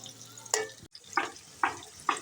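Onion softening in hot oil with a pinch of salt, stirred in a few distinct scraping strokes over a faint, low sizzle, close by with no talking.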